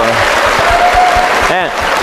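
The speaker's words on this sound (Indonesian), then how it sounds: "Tepuk tangan dulu, tepuk tangan dulu." An audience at a university Islamic Q&A event claps together in a dense, sustained burst of applause, with a voice briefly heard near the end.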